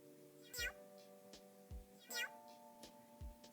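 A person's voice imitates a cat meowing: two drawn-out, rising-and-falling meows over a steady background tone, with a few soft thumps in between.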